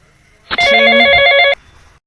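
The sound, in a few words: phone ringing with incoming call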